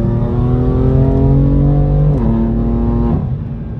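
A BMW M4 engine roars steadily at high revs, then the pitch steps down twice as the throttle eases off, with exhaust pops.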